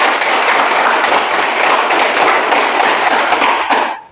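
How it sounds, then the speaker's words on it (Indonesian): Students clapping their hands together in a classroom, a dense, steady burst of applause lasting about four seconds before stopping abruptly. "Tepuk tangan."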